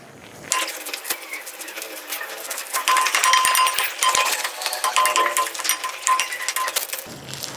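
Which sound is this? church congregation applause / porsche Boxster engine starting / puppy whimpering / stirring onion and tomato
stirring onion and tomato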